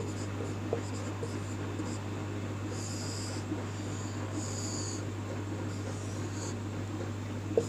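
Marker or chalk writes on a board during a class, sounding as several short squeaky strokes over a steady low hum, fairly faint and with no talk.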